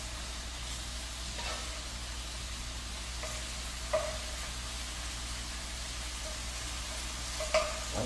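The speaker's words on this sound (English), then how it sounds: "I'm going to add the lemon juice in after I just let this saute a little bit longer" Shrimp and cabbage sauté together in one pan for a stir fry, producing a constant soft sizzling hiss with two brief utensil scrapes.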